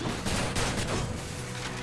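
Rapid gunfire from shooting in the video game Hades, a dense, continuous burst of loud overlapping shots for the whole short stretch with no pauses.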